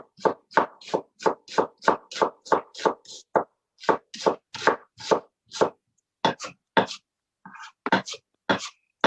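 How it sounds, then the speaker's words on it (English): A knife chopping a medium-sized onion on a board, a rapid run of sharp, close, evenly spaced taps with a few brief pauses between bursts. "I'm just chopping up a medium-sized onion."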